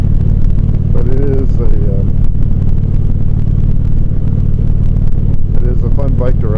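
A motorcycle ridden on the road on a spring day, its engine rumbling steadily with wind and road noise throughout, while someone talks over it.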